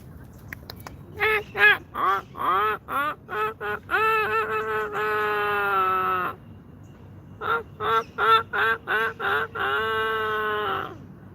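Seagulls in Istanbul call loudly nearby in a run of sharp repeated yelps followed by long drawn-out wailing cries, then another burst of calls.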